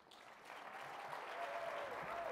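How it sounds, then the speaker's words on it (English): Audience applause rings out at the 2014 Podcast Awards held live at NMX, a sustained wash of many hands clapping that swells slightly as it goes, with a faint tone gliding through underneath. "Keep that applause going for our lovely Megan Enlow"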